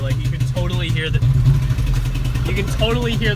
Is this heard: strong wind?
no